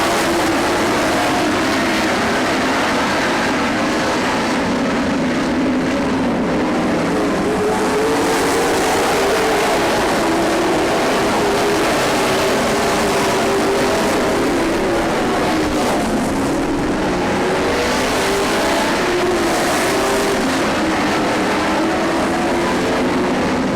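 Race cars roar around a track in a steady, loud, continuous drone with slight rises and falls in pitch as the pack passes, heard from a distance without clear speech.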